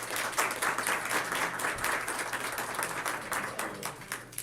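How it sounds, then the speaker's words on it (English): Audience applause greeting a guest speaker as she comes up at a Fit for Life review evening, a steady, dense wash of clapping that holds at full strength throughout, with a faint low hum underneath. "you're applauding before I even say anything"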